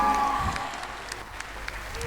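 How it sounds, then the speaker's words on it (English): Audience applause at a school stage production of Charlie and the Chocolate Factory, a steady crackle of clapping sustained across the whole stretch at moderate level. "A huge round of applause one more time"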